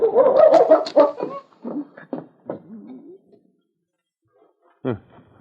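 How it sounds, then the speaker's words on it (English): A dog gives a few short barks and whines in quick succession, then falls quiet before one last sharp yelp. "The intelligent dog sniffed a moment, and then going to the back door, he barked"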